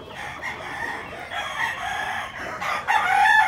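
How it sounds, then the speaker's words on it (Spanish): Roosters crow loudly and close by on a ranch, several long calls overlapping one after another over a few seconds. "el video que le mostramos ahora de los gallos que tenemos aquí"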